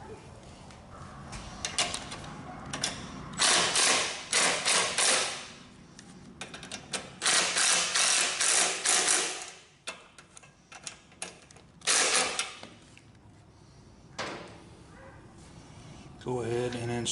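Screws being fitted into a lawnmower carburetor during a rebuild: irregular bursts of sharp clicks, taps and scraping from close by, spread over the whole stretch between quieter pauses.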